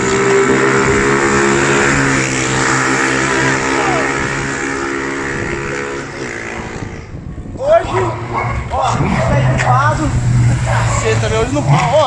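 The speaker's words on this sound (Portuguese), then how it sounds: "Olha, não para de passar moto, velho." Motorcycles pass along a street in the early morning, one engine droning loudly close by and then fading, while a dog barks and yips over the traffic.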